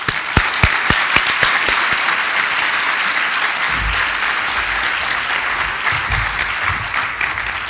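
Steady, loud audience applause at a literacy summit welcoming a university president to the stage, a few sharp claps at the start building into a dense continuous wash that holds to the end.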